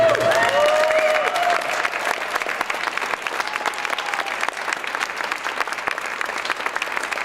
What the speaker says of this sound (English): I want everybody to give a round of applause to Sean for his incredible work.